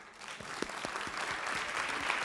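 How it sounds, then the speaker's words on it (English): Students in a lecture hall on the science of cooking clap together on cue, a dense burst of applause that starts at once and keeps going steadily to the end. "actually you all have to clap"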